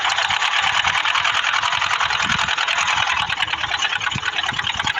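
A sewing machine runs steadily while stitching a fatua, a Bengali tunic, its fast mechanical stitching buzz close and loud and continuing without a break.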